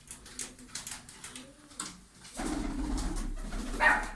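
Pigeons cooing in a loft where fancy breeds are kept, soft low coos repeating close by, with a louder rustle and a brief higher call near the end.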